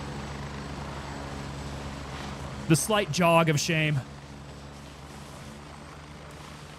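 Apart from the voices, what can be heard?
helicopter flying overhead in the video game Gray Zone Warfare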